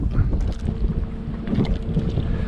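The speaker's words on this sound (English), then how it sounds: "Wind's starting to pick up a little bit." Wind gusts steadily across a small fishing boat out among mangroves on redfish water, a continuous low rumbling buffet of microphone wind noise with faint water and hull sounds, no talking.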